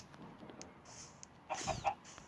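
A chicken in a video game clucks in short bursts against a quiet background, a few brief calls close by.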